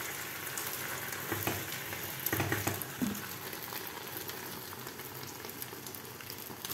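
Potato omelette frying in a pan and flipped with a spatula, a continuous close sizzle with a few louder scraping bumps around the turn, then steady frying again.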